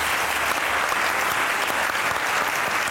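Audience applause welcoming poet Syed Salman Gilani onto a talk show, a steady, dense burst of clapping held at even loudness throughout.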